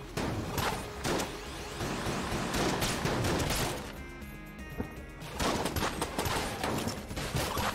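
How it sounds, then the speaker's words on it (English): Dense gunfire and bullet sounds from the Enter the Gungeon game, rapid overlapping shots and impacts in continuous bursts with a brief lull midway, no talking. "That's a lot of bullets coming in at me."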